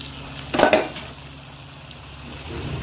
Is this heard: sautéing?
yes